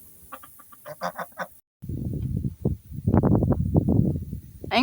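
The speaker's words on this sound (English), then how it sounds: "That rooster doesn't want anything to do with you." A rooster near a large nest crows and squawks in repeated loud, agitated bursts, with short harsh calls first and then a longer, louder run of cackling close by.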